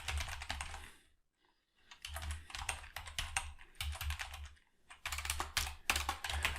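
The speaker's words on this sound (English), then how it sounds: "And then you can type in role here." Close, quiet tapping on a computer keyboard in quick bursts of keystrokes, broken by a brief pause near the start and another shorter one midway, with no voices.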